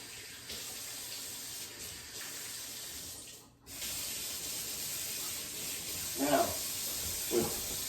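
A kitchen tap runs steadily as hands are rinsed, a broadband hiss of water from the faucet with a brief break partway through, and a couple of soft splashes and clatters near the end.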